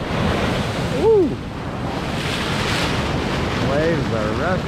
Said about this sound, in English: Waves are rough today.